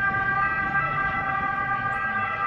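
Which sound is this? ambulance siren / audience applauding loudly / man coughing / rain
ambulance siren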